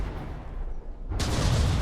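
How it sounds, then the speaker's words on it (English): Ship cannons firing on a warship in From the Depths, a deep, heavy boom that breaks out suddenly partway through after a low, rumbling lull and rolls on loudly to the end. "Engage the cannons."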